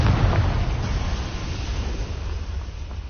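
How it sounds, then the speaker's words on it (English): A Confringo blasting spell explodes in Hogwarts Legacy with a loud, low rumbling boom that rolls on as a sustained roar and slowly fades, with no talk. "Confringo!"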